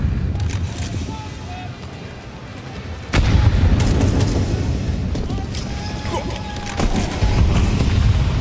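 Rapid gunfire bursts and sharp shots ring out during a Counter-Strike match between Falcons and FURIA, loud and layered with in-game ambience, with bursts recurring over the clip while a commentator talks.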